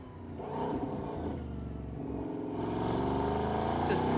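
Bugatti Bolide hypercar, a 1600hp track car, accelerating hard on a track, its engine roaring and climbing through the revs with a brief shift dip, heard at moderate loudness with no talking.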